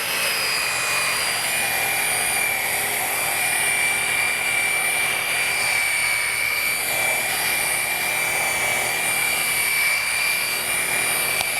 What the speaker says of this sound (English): I'm going to turn my machine on speed setting 1, which is 600 RPMs, and I'm going to spread out the polish